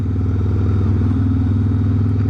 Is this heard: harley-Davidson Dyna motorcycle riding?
yes